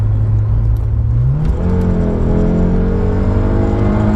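A Peugeot 106 GTI, an old French hot hatch, revving hard under acceleration from inside the cabin, engine note climbing steadily in pitch toward 7,000 RPM, loud and close with a droning rumble and no talking.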